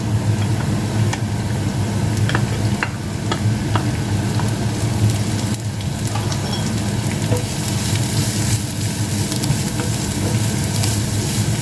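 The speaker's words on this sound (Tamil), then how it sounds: "இதை ஒரு 5 நிமிஷம் வதக்குவோம்" Shredded cabbage and spring onion sautéing in a pan over medium heat, with a steady, dense sizzle and crackle running unbroken throughout, plus faint stirring clicks.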